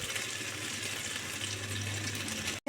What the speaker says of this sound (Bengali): পোস্তটা একটু ভাজা ভাজা হয়ে গেলে দেব হলুদ আর দিয়ে দেব কাশ্মীরি লঙ্কা গুঁড়ো